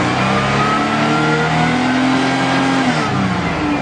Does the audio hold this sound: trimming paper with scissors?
no